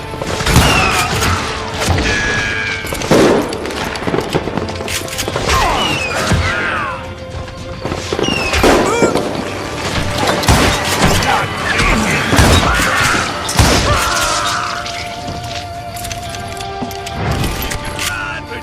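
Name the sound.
gunfire in a shootout, from the video game Call of Juarez: Gunslinger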